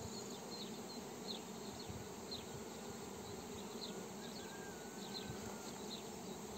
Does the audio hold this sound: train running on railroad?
no